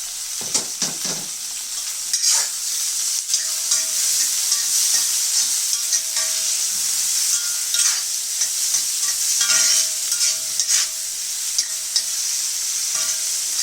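Tomato dropped into frying okra masala for bhindi masala, with loud, steady sizzling and the scrape of a spoon stirring through the pan, close up and continuous with no talk.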